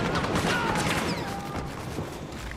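Dense gunfire from a Star Wars Battlefront battle, with overlapping blaster shots and streaky laser-like whines forming a continuous loud barrage throughout, no clear pauses.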